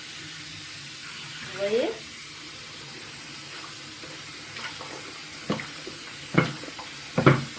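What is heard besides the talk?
cold tap water running while rinsing a wig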